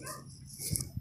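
A dog gives a couple of quick, faint yips or barks at moderate distance, short and abrupt against a quiet indoor background.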